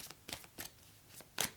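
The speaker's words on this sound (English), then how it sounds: "So we'll shuffle them up." Tarot cards being shuffled, several soft, quick riffling bursts spaced through a short, quiet stretch, with no talking.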